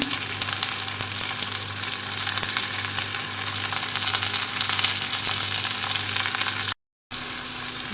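Chopped cluster beans fry in a pan with curry leaves and a little tomato, giving a steady, close sizzle that hisses evenly throughout, broken only by a brief gap near the end.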